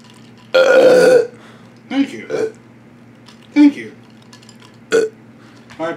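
A loud, drawn-out burp rings out up close, followed by a few short vocal grunts and murmurs.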